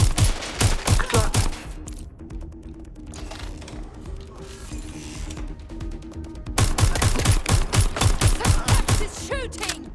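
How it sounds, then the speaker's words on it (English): Rapid automatic gunfire in Watch Dogs Legion, loud dense bursts of shots at the start and again at the end, with a quieter mechanical stretch between them. "It's shooting!"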